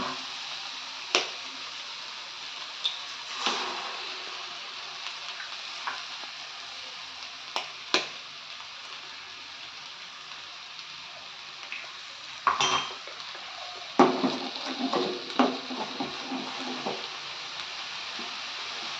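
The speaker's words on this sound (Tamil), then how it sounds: "அடுப்பை லைட்டாக சிம் பண்ணிவிட்டு உடச்சி ஊற்றிக்கலாம்." Beaten eggs hit a pan of frying cabbage and capsicum, giving a steady low sizzle broken by sharp clinks and scrapes of a spatula stirring against the pan, close and fairly quiet with no talk.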